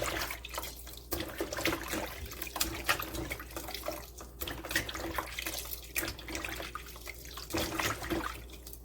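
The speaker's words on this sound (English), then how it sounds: "Now I'm going to wash my shrimp. So I'm going to wash it with some vinegar and some lemon." Running tap water splashing in a kitchen sink as shrimp are washed with vinegar and lemon, a continuous gushing with irregular sloshes and clatters from hands working under the stream.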